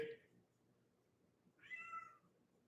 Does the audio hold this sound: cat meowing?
yes